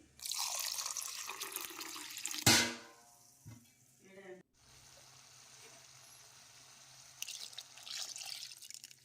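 A little water is poured into a mixer jar holding ground masala for mutton sambar: a short steady trickle, then a splashing gush and a few knocks of the jar, close and quiet.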